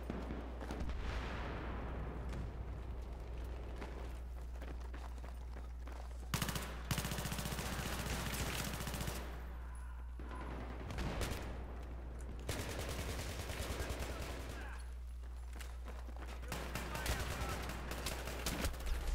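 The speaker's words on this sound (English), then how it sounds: "I'm getting shot from both sides." Gunfire in a co-op close-quarters shooter game featuring the PP-19, with rapid, loud bursts of automatic shots crackling nearby in repeated volleys, broken by brief lulls and resuming across the stretch.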